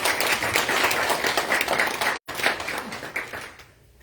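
Audience applause at a peace and unification lecture, dense steady clapping from a sizable crowd that cuts briefly, resumes and then fades out.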